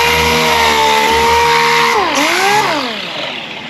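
A power tool whines loudly while working damaged boat gelcoat near the edges, a sustained high motor tone that dips in pitch under load and recovers, then eases off toward the end with no talk.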